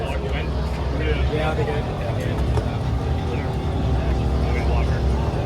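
Strong wind buffets outdoors at a Hot Rod Power Tour 2023 stop. A constant low rumbling rush runs throughout, with a brief spoken exchange over it.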